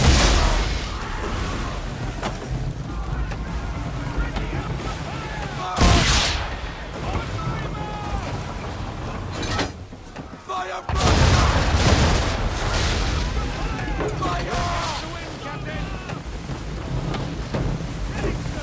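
Ship-mounted swivel guns fire in a naval battle at sea, with sharp booming blasts over constant wind, waves and creaking hull noise, loud and close.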